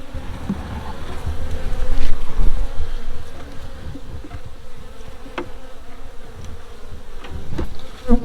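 Agitated honeybees swarm loudly around an opened hive frame, giving a dense, continuous close buzz that swells and fades as insects dart past, with faint handling noises underneath.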